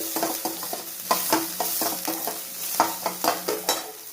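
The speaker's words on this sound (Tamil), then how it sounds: "இப்போ கருவேப்பில் கொஞ்சம் பச்சை மிளகாய் கொஞ்சமாக இதெல்லாம் போட்டு நல்லா வணக்கிடுவோம்" Curry leaves and green chilies sizzle and crackle steadily in a hot pan, with repeated stirring scrapes and light utensil taps in an uneven rhythm.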